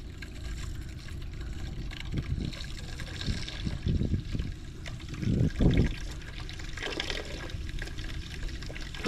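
Water drains from an RV trailer's low point drains into a bucket during de-winterizing, a faint, steady trickling and splashing with a few louder gurgling bursts, recorded outdoors at close range.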